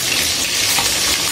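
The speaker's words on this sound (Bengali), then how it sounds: "আপনারা দেখতে থাকেন আমি কিভাবে মাংসগুলো ভেজে নিই।" Loud, dense sizzling of meat frying in oil in a pan for bhuna khichuri, a steady close hiss with no pauses or talking.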